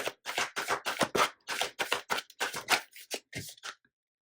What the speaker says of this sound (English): I want to do a shuffle, see if I can get a pop out.